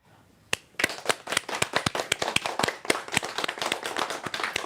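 A small studio audience at a university TV live stream breaks into applause after a sharp single clap, irregular close claps building into a sustained patter.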